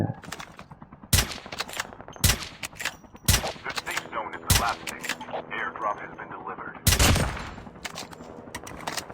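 Gunfire in the Call of Duty Mobile battle royale game, loud repeated shots and bursts in rapid clusters, with a player talking over the action.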